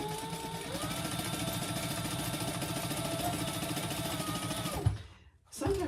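A sewing machine runs steadily, stitching a second row through soft faux leather vinyl for a crossbody bag, its fast even needle rhythm continuing for several seconds before stopping abruptly, with a short burst of talk at the end.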